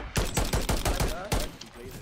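DMR rifle shots in a Call of Duty match crack out in a quick rhythmic series of about eight sharp reports, loud and close, with a voice briefly underneath.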